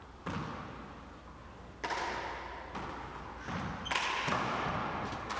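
Racquetball power shots at a professional tournament in Tucson, heard as several sharp thumps of the ball off the court wall with squeaky shoe noise and commentary voices underneath.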